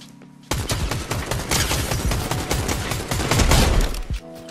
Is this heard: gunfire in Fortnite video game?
yes